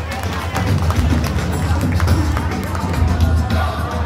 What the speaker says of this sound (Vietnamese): rất mong muốn quý vị chúng ta cũng dành một tràng vỗ tay